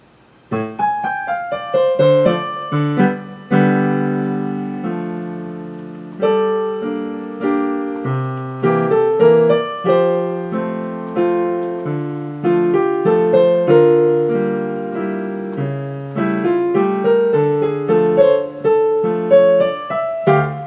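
A full page of a jazz piano piece, played on solo piano: a continuous stream of struck chords and melody notes, each ringing and fading, close and clear with no talking.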